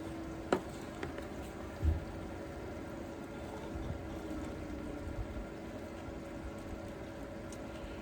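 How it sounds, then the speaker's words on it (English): A swimming pool pump hums steadily outdoors in a Florida vegetable garden, a low constant drone with faint mechanical tones running throughout, with a couple of brief knocks and no talking. "I hope you guys can hear me okay over the pool pump."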